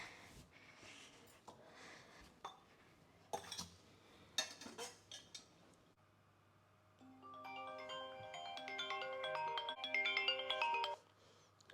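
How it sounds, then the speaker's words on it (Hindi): A mobile phone ringtone, Anjali's phone, plays a bright melodic jingle in a quiet home. Scattered clinks of dishes and cutlery come first, then the ringing continues for several seconds before it cuts off. "अंजलि का फोन"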